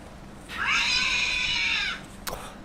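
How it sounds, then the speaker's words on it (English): A single drawn-out cat meow in the Caretaker horror game, loud and close, lasting over a second, followed by a short faint thump. "Fucking cat."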